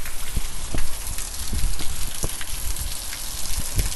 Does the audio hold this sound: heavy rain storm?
yes